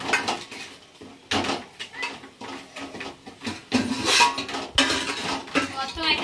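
Chili powder and turmeric being mixed into a metal cooking pot, with repeated scraping and clanking of a spoon against the pot in uneven bursts, close and fairly loud, with some talking mixed in.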